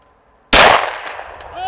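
A single loud, close shotgun-style blast during a snowshoe rabbit hunt in Michigan snow, striking suddenly after a quiet moment and ringing out into a fading echo.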